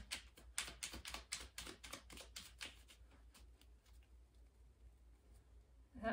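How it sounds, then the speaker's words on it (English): Tarot cards are shuffled by hand in a rapid run of crisp flutters and riffles for about three seconds, then quiet with a faint final rustle, close but soft. "You're just gonna have me keep shuffling here?"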